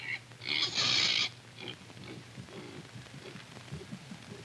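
A little pig grunts and snorts close by, a burst of squealing noise followed by softer, irregular grunts over a faint steady background hum.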